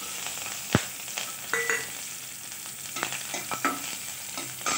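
Mustard seeds, cumin, torn curry leaves and chili crackling in hot oil for vermicelli upma, a close sizzle with scattered pops and spoon knocks, including one sharp hit near the start.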